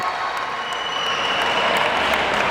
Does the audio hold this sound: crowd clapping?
yes